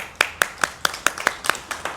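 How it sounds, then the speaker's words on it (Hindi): Steady rhythmic hand clapping by a few people during a talk on spirituality and science, about nine sharp, evenly spaced claps over two seconds, fairly close and clear with no talk over it. "क्या बात है, ताली बजा रहे लोग।"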